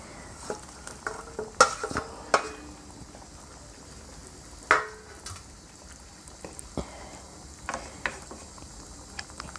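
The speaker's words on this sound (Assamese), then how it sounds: "এতিয়া এইখিনি হাই ফ্লেমত উতলি থাকিব দিম" Matar paneer gravy with fried paneer bubbles on a high flame, a low steady simmering hiss broken by sharp metallic clinks and scrapes of a utensil against the pan.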